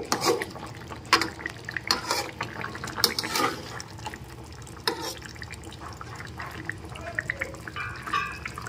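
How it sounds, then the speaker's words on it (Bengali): Chopped coriander leaves being stirred into a rohu fish curry with winter vegetables and bori, giving soft, wet stirring and faint bubbling in a pot, with a few sharper clinks of a spoon against the pan. "এখন ধনেপাতা কুচিটা দিয়ে মিশিয়ে নিতে হবে।"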